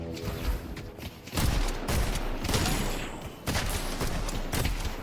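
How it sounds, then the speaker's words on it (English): Shotgun fire in the video game Deadlock, a few heavy booming blasts spaced apart over continuous game noise. "A shotgun? Shotguns are crazy at last hit."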